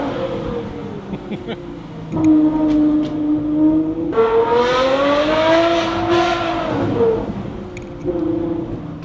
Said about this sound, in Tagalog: Ganda ng exhaust. Ang pino na umupunit.